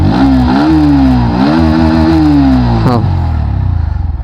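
A Bajaj Pulsar NS 125 motorcycle engine revs loudly up and down, rising and falling in pitch before settling back toward idle, close to the listener.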